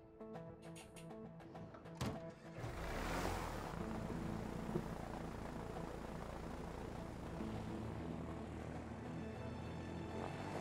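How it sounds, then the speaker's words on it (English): Propeller airplane in the action video game A Way Out, a steady engine drone that swells to a loud, broadband roar after a brief click and holds constant, with background music underneath. "Get in the plane."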